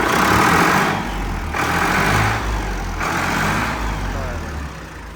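A Farmtrac 60 tractor engine idles steadily with a low, continuous rumble that swells and eases slightly in regular pulses, heard close and alone.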